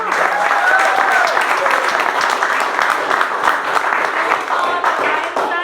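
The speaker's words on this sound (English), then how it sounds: "Let's give them another round of applause" Audience applause at a political campaign kickoff event, a dense, steady wash of many hands clapping that holds loud and even throughout, with scattered voices mixed in.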